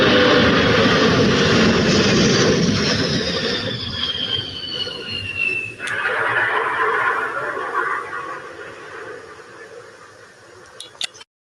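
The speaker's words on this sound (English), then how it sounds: "Military transport plane, that one was, and then of course there it is there." A military transport plane passes overhead as a loud, broad engine roar that dominates the first half, then gradually fades into the distance with a descending whine, with no talking.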